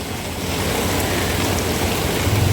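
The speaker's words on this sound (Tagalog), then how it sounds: "sumabay pa yung malakas na ulan" Heavy rain pours steadily during a typhoon in Barangay 313, a dense wash of hiss with a rumbling low end, loud and unbroken throughout with no voices.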